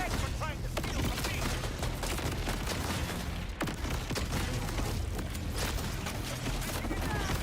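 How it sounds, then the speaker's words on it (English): Radiating explosions from a weapon in Borderlands 4 on PS5, a dense barrage of booms and crackling blasts continuing without pause, with a sharp burst near the middle. "The explosions that radiate are nice and all."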